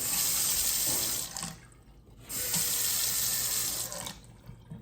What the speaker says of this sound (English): And now we're going to turn the water back on and give it a test.